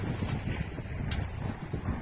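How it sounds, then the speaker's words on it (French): Wind of about ten knots over a flat sea while sailing a boat, a steady low rumble of buffeting with faint splashes, moderately quiet, with no talk. "il y a un vent de 10 nœuds à peu près"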